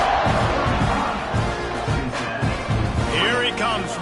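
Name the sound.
football stadium crowd buzzing after a score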